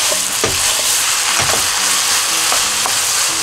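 Garlic chives stir-fried with meat and enoki mushrooms in a hot pan, a loud continuous hiss broken by a few quick scraping stirs, with no talking.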